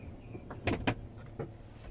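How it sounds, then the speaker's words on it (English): A 2016 Kia Sedona minivan's power sliding door closes, giving a few short mechanical clunks and motor whirs, moderately close, over a quiet cabin background with no talk. "let's close this door."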